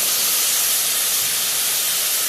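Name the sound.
garlic and chili frying in a little oil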